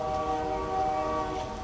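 A train passes nearby outdoors at a plant nursery, its horn sounding a steady, sustained multi-tone blast over rumbling rail noise.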